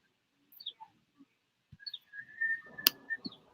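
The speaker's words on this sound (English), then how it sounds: "I hear birds chirping." Birds outside an open window chirp and whistle in short, scattered calls, faint and thin against near silence, with a brief click partway through.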